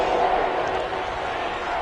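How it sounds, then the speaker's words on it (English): Stadium crowd in an American football video game, New Orleans Saints home field, builds ahead of a big third down; a dense, continuous roar of massed voices with no breaks. "The crowd getting into it as we come up on a big 3rd down."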